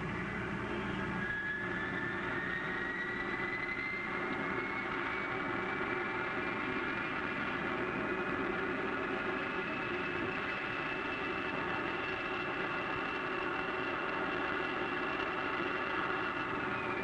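An aircraft engine in a radio drama drones steadily through a slow roll, with a rising whine sweeping upward early on over a constant low roar, and no talk.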